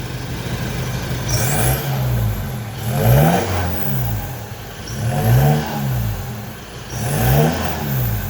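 A 2014 Isuzu Mu-X SUV with a full CNC-bent exhaust system revs in four repeated low-RPM bursts about two seconds apart, the exhaust rumbling up and settling back each time, close and steady.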